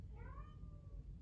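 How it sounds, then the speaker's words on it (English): A single drawn-out cat yowl rises and trails off over about a second, faint and set against low background hum. "Sorry if you hear Goopy yelling in the back. That is my cat"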